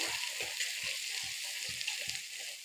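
Potatoes frying in a pan with chili powder for a local chicken curry, sizzling steadily while a spatula stirs them in regular scraping strokes, close and moderately quiet.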